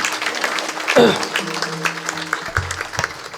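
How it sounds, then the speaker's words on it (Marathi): A kirtan audience claps loudly for the sound system crew in a short, dense burst, mixed with a speaking voice near and clear. "त्यांच्यासाठी एकदा जोरदार टाळ्या झाल्या पाहिजे."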